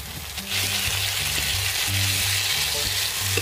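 Onion, chili, garlic and ginger fry in a pan, giving a loud, continuous close-up sizzle with tonal music playing underneath.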